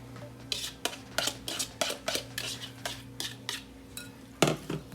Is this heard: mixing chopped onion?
yes